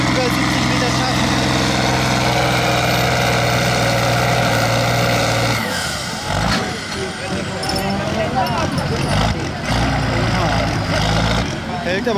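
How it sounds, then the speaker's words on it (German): A heavy tractor engine roars and labors continuously pulling a sled at a tractor pulling event, loud and close, with rough mechanical rumble shifting partway through, and crowd noise faintly underneath. "Ja, jetzt haben wir eine der stärksten Traktoren."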